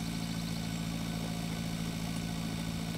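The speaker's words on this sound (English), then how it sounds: "this tractor it's huffing and puffing right now" A tractor of roughly 73 to 75 horsepower labours under load in the farming game Pure Farming 2018, its engine holding a steady, loud droning throb throughout.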